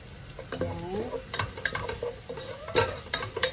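Garlic sizzling steadily in a hot pan as it is sautéed for chicken soup, with repeated clinks and scrapes of stirring cutting through the frying hiss, close and alone without talk.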